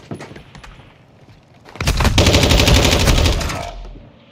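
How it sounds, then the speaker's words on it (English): Loud, close bursts of rapid automatic gunfire in a competitive Knock Out round of a shooter game, with a few sharp single shots first and then a dense, sustained volley for about two seconds. "I'm taking effective fire!"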